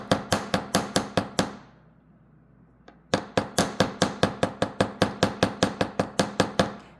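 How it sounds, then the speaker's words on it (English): A wire heart pendant arc being hammered flat on a hard surface: a steady run of sharp, loud metallic taps, pausing for about a second and a half before resuming at an even, quicker pace. "I'm just going to start hammering that arc out."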